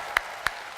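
A few sharp, isolated handclaps from an audience at a Mata Najwa talk show event at Universitas Indonesia. Three separate claps sound, evenly spaced and moderately loud, with no full round of applause.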